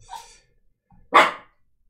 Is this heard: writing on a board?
no